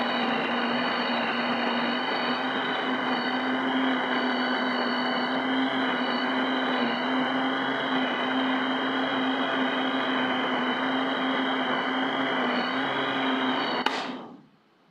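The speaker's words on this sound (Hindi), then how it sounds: "इसे मैं तब तक ब्लेंड करूँगी जब तक पुदीना जो है वो अच्छी तरह से मिक्स ना हो जाए" A blender whirring steadily and loudly on mint and cumin for lemonade, a constant motor drone held for about fourteen seconds before it cuts off abruptly.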